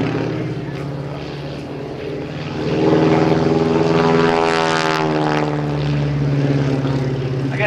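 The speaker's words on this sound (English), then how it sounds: "Now you can see Stearman's out there with twice the horsepower flying." A Stearman biplane with a doubled-horsepower engine flies aerobatics at the 2010 New Garden Airshow, its propeller drone swelling loudly and sweeping in pitch as it passes, with an announcer talking over it.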